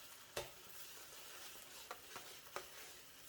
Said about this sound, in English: Stir and mix until well combined with the oil and spices.